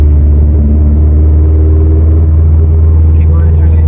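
A Subaru STI with a built motor and Blouch turbo drives along steadily, its deep engine drone and low rumble constant and loud throughout, with a faint rise in pitch toward the end.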